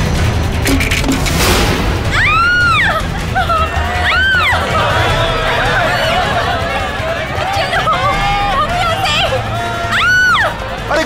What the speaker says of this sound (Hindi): अरे गोली चलने की आवाज कहाँ से आई?